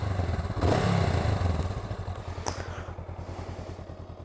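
A Honda CMX500 Rebel cruiser motorcycle runs at low speed on rough off-road ground with a quiet, steady engine pulse, clattering and scraping underneath, and a louder bump partway through. No one speaks.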